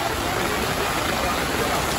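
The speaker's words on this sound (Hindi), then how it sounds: "यहाँ तो आते ही बारिश शुरू हो गई" Rain starting suddenly on a street in Fort Kochi, Kerala, near the synagogue in Jew Town: a steady, dense wash of broadband hiss that holds evenly throughout with no breaks.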